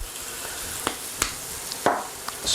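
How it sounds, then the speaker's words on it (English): Chicken sizzles and fries in a hot pan, a steady close hiss with a few light clinks and knocks of cooking utensils, no voices. "And we'll add the chook. And that'll just need to cook for 2 or 3 minutes each side."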